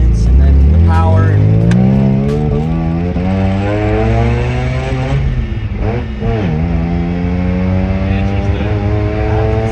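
A Mazda RX-7 FC with an S4 engine on its first drive after suspension and power work, loud and close, its engine note sweeping up and down through gear changes with a steady harmonic drone.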